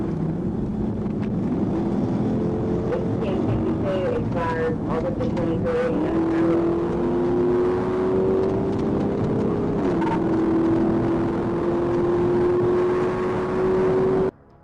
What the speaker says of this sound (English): It accelerated, engine screaming, speedometer pushing beyond 150.